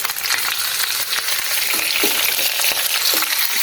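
Chicken sizzles and fries steadily in a pan for a curry, browned and roasting before onions go in, with occasional stirring scrapes over a constant loud hiss and no talk.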